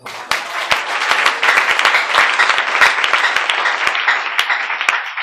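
A church congregation claps loudly and continuously, with sharp individual hand claps standing out over a dense wall of applause that swells and holds for several seconds.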